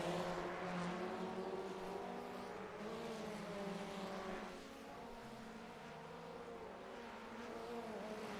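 Formula Ford race cars in the iRacing video game on the Long Beach Street Circuit send up a steady, layered engine drone as a line of them runs down a straight, with no talk.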